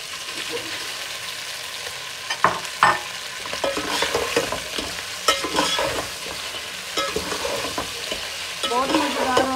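Boiled macaroni and fried chicken sizzle and crackle in a hot pan while a utensil stirs and scrapes, with a few sharp knocks against the pan, close and steady.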